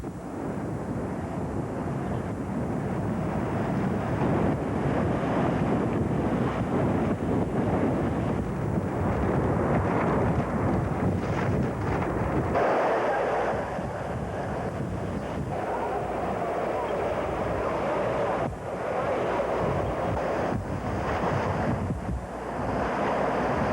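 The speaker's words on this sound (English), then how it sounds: "some of those heavier wind gusts are hitting right now" Steady, heavy wind from Hurricane Gloria in 1985 roars and buffets throughout, with rumbling gusts that surge and ease without letting up.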